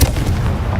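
Confringo fire blast spell exploding in the video game Hogwarts Legacy, a loud, dense booming burst that fills the whole short moment without a break.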